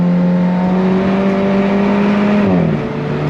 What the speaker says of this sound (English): On throttle, here we go, yeah! Nice shifts from that 6-speed dual clutch.